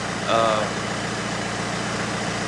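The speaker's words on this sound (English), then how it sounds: "I'm gonna go fire up the tractor" Tractor engine idling inside a cold shop at about 35 degrees while warming up, a steady low rumbling hum with a brief higher tonal sound near the start, constant and close.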